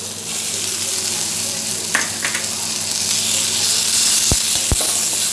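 Onions frying in oil in a pan, a loud, steady close sizzle throughout, broken near the end by a couple of brief clicks.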